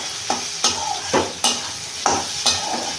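Mixed vegetables with a little sugar and salt being stirred in a frying pan, several distinct scraping strokes at a steady rhythm over a soft background sizzle, close and clear.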